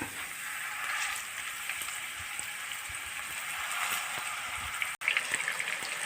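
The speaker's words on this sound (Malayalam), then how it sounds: "നമുക്കിനി ഇതൊന്ന് വറുത്ത് കോരിയെടുക്കാം." Chicken pieces with curry leaves fry in hot oil, giving a steady, moderately quiet sizzle and crackle that holds evenly throughout, alone with no voices.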